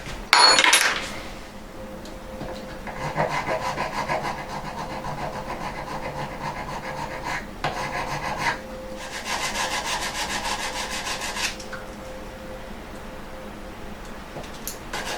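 Sandpaper scrubs back and forth across a soldered brass join in a close, steady rasping rhythm. The rubbing comes in several sustained bouts with short pauses between them.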